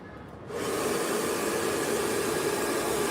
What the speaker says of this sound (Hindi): आपको ज़्यादा ब्लो ड्रायर की आवाज़ आ रही होगी